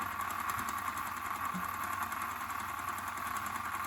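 A small wind-up engine of a Schuco 5600 Elektro Radiant reproduction tin toy airplane idles with a steady, buzzy mechanical whir and faint rhythmic ticking, continuous and fairly even throughout.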